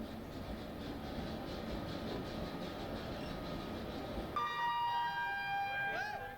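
Passenger train on the rails at Rishikesh railway station, a steady broad rumble of rolling wagons for over four seconds, then a sharp rising horn or brake squeal with strong tonal lines near the end, with speech faintly mixed in.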